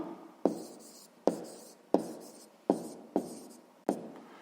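A pen writes numbers on paper in six evenly spaced scratchy strokes, close and quiet, each one starting sharply and fading out.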